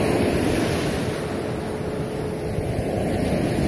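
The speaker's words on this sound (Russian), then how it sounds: "Волны обалденные." Sea waves breaking on a windy shore, a loud, continuous wash of surf with wind buffeting the microphone.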